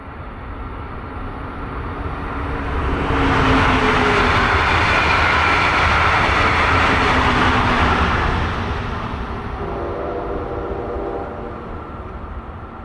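Brightline or FEC train passing over a road crossing, a broad rumble and rail roar that swells over several seconds, holds steady while the cars roll by close, then fades, with no voices.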